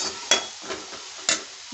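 Small onions and curry leaves fry in a pan with a soft steady sizzle, broken by a couple of sharp utensil clinks and stirring scrapes close by.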